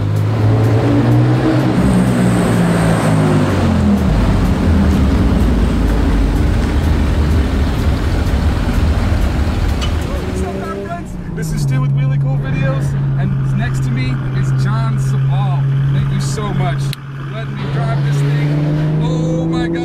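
A loud Porsche 3.2 short-stroke engine with high-butterfly mechanical fuel injection, exhaust headers and an RSR muffler revs with a raspy racing exhaust, pulling hard through gear changes in a tight canyon, droning steadily up close with a person talking over it.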